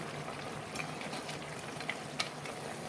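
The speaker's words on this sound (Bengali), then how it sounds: "দেবো অল্প জল সেদ্ধ করার জন্য ঢাকনা বন্ধ করে সেদ্ধ করে নেব" A brinjal, potato and bori curry simmers with a little water in a covered pan, giving a faint, steady bubbling hiss with a couple of soft clicks.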